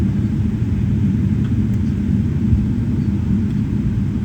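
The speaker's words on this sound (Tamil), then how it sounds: "ஃப்ளைட் லேண்ட் ஆகுது" Steady low jet engine rumble from an Emirates Boeing 777 landing at Larnaca airport in Cyprus, a continuous loud roar that holds evenly throughout with no talk.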